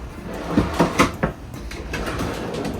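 A door on a 2026 Winnebago travel trailer swinging and latching, a handful of quick soft knocks and clicks close by, then a quiet room hum with no talking.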